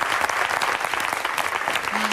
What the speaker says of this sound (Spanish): creo que tengo que darle un aplauso a esta señora que está aquí